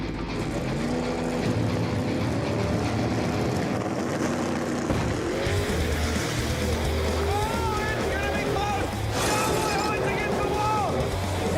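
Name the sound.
drag racing cars launching off the start line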